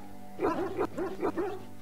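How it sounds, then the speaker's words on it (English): Mabari hound from Dragon Age: Origins barking: four or five quick, mid-pitched barks in a rapid, even rhythm, clear and close over faint game background hum. "A trained Mabari hound is as dangerous as any sword."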